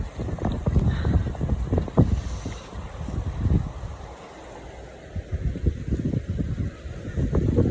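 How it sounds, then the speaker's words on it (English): Heavy rain and strong wind during a rainstorm in Hargeisa, Somaliland, gusting roughly across the microphone with a steady wash of rainfall and water flowing, loud and continuous throughout. "Rainy and windy."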